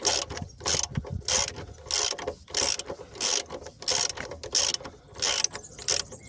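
Ratchet wrench loosening a bolt on a DS 3 car: close, sharp bursts of clicking ratchet strokes repeat in a steady rhythm, about a dozen pulls separated by brief quiet pauses.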